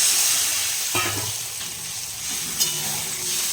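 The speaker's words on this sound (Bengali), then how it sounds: "আমার আলুটা ভাজা হয়ে গেছে এবার ঝোল দিয়ে মানে জল দিয়ে দেবেন" Water hits fried potatoes in a hot pan, bursting into loud sizzling and bubbling that then settles into a steady hiss, with no talking.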